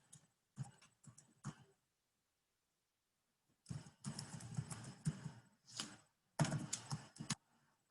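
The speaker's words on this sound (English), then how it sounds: "I'm going to type the email address." Bursts of keystrokes on a computer keyboard as an email address is typed, clustered clicks with short pauses between runs, close and clear with no talking.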